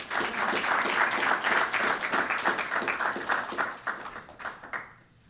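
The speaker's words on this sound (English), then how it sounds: "Can we give him another round of applause?" An audience at a university debate on whether God exists gives a speaker another round of applause, dense clapping that holds steady and then thins out and fades away at the end.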